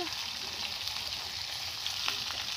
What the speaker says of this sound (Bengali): আলুগুলো আমি খুব ভালো করে নুন হলুদ দিয়ে আমি ভেজে নেব